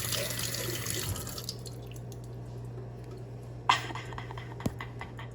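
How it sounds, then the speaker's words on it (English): A hot dog is rinsed under a running kitchen tap, a close hiss of flowing water that stops after a second or two, followed by faint drips and a couple of sharp knocks against the sink. "yes, I washed my hot dog."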